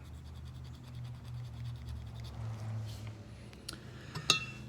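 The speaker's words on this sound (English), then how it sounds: "I'm just taking a plastic razor blade and scraping all that off." A plastic razor blade scrapes dried crust off a Nissan Z31 turbo automatic oil pump part, giving faint, scattered scratches over a low steady hum, with a few sharper clinks and scrapes near the end.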